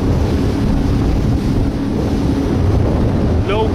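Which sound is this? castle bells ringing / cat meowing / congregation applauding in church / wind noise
wind noise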